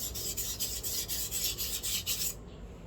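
Rhythmic strokes of a Japanese kitchen knife blade being sharpened flat on a stone, about ten even raspy scrapes close by, then stopping abruptly.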